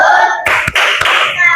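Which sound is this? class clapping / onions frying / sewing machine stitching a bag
class clapping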